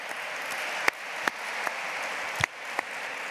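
An audience at a Mediterranean forum on building bridges applauds a mayor with light, scattered clapping, a few sharp individual claps standing out over a soft, diffuse wash.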